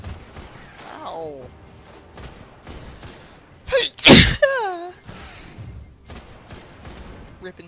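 A loud, sudden sneeze bursts out midway through a scene from the video game Destiny: Rise of Iron, set among in-game character voices and soft ambient sounds.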